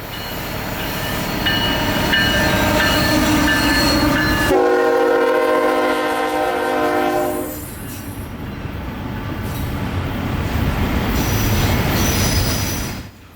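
A freight train carrying intermodal stacks rumbles past close by in Florida, its horn blaring in long sustained tones midway, with wheels squealing and heavy rolling noise throughout.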